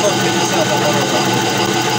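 A homemade belt grinder doing rough stock removal at about 700-750 rpm, with a steady dense roar and a low motor rumble, loud and unbroken.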